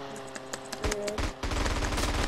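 Gunfire in the multiplayer video game GTA San Andreas, rapid bursts of automatic shots that start as scattered pops and build into dense, loud, continuous firing.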